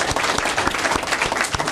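An audience claps loudly and continuously, a dense crowd of hands, during a Malian broadcast event honoring a journalist.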